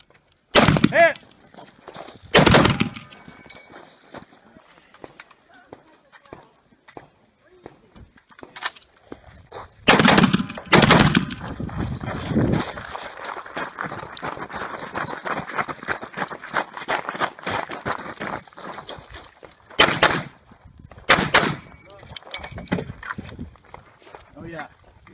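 Shots from an M1 Garand rifle and a 1911 A1 pistol at a WWII-themed multigun 3-gun match: loud, sharp reports come mostly in close pairs at spaced intervals, with shuffling movement, footsteps and talk in between.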